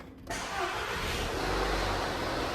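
A VW 1.4 TFSI engine cranks and fires, then settles into a steady mid-pitched run with a faint rattle from a failing water pump, close and loud with no voices.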